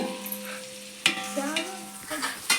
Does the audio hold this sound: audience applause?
no